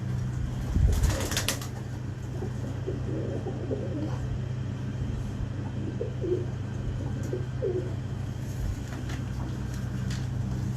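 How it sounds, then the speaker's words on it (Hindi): Sialkoti pigeon chick cooing softly in a loft, low murmuring coos repeating over a steady background hum, with a brief flutter of wings near the start. "जबकि इस सियालकोटी कबूतर का बच्चा है"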